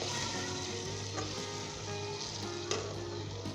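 Fried onion and tomato masala for a Punjabi beef kofta shorba sizzles steadily in a pan, a soft continuous hiss with a few scraping stirs and a light clatter near the end.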